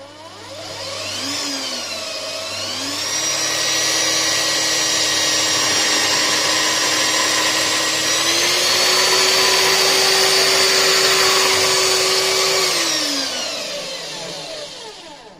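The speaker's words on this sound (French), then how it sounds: "moi je le fais à la scie à métaux électrique" An electric hacksaw cutting a pipe whines steadily for several seconds, its motor pitch rising and dipping slightly as it works, loud and close, then winding down.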